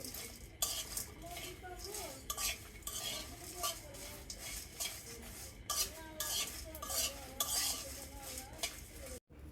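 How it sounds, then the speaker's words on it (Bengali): Spices frying in a pan for chicken dum biryani, with a spoon stirring and scraping against the metal in steady close strokes over a continuous sizzle, punctuated by brief gaps. "তো এটাকে ভালো করে এখন ভেজে নেব আমরা।"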